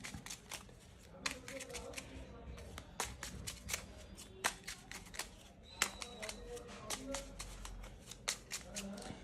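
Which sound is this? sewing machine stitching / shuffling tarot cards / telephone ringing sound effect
shuffling tarot cards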